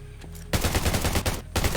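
Rapid automatic gunfire in the survival shooter Undawn: a quick burst of close, loud shots, a brief pause, then another short burst.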